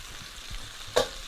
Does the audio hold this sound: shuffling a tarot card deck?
no